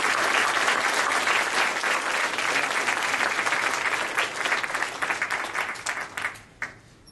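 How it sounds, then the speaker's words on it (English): Convention audience at fursuit-fan closing ceremonies breaks into sustained, dense applause, loud and steady for about six seconds before thinning out and fading at the end. "So round of applause for Cody today."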